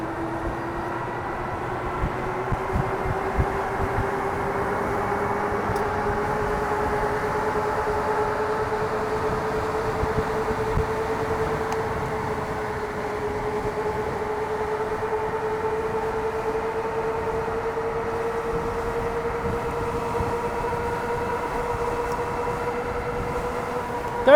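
A Wired Cruiser e-bike pulls away on throttle alone, its electric motor whine climbing steadily in pitch over a constant rush of wind and road noise.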